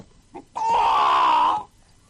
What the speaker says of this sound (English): on the gate sat a rooster, crowing with all his might